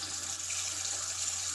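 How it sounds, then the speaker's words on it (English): Water runs steadily from a sink tap in a bathroom or kitchen, a continuous, even hiss of flow heard close up, with no voices over it. "Get the water going."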